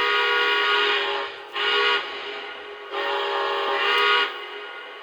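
Whistle blasts from a Lionel Santa Fe Northern model steam locomotive, a steady harmonic tone sounding in repeated long toots with brief dips between, close and fairly loud with no talking.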